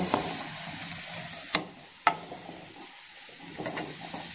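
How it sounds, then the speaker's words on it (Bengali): Turmeric and chili powder paste stirred as it fries in a pan for a Bengali-style tangra fish dish, a steady close sizzle with two sharp clinks of the utensil against the pan partway through. "এবার ভালো করে মশলাটাকে আমি কষিয়ে নেব"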